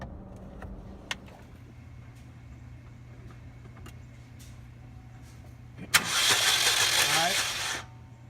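After a rough head gasket repair, a 2010 Chevy Cobalt cranks with a sharp click and a brief whirring start, then catches and runs loudly for about two seconds before the noise cuts off, with a faint background hum before it.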